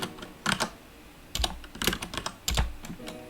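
Keys clack on a computer keyboard in short irregular bursts of typing, close and fairly quiet, with pauses between groups of keystrokes.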